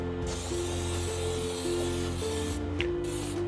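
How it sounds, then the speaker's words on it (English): Nonstick cooking spray hisses steadily from an aerosol can onto cake pans at a sink in long bursts with brief pauses, close and continuous, with faint mechanical clicks. "you want to spray the pans really well"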